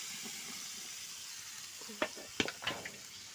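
Boti pieces frying with salt in a pan give a soft, steady sizzle that sits low throughout, with a few sharp scrapes and clinks of stirring near the end.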